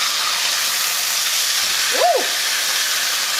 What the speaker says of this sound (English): After 3 minutes, you want to flip your steak one more time.